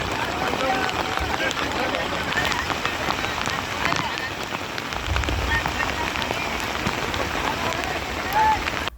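Heavy rain pours down steadily during a storm in Gujarat, India, a dense continuous hiss of drops hitting surfaces with no break, loud and close throughout.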